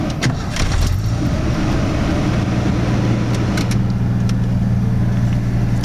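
A 1986 Ford F-150 four-wheel drive with a carbureted 300 six-cylinder fires up with a brief cranking surge, then settles into a steady, even idle rumble up close, with no voices.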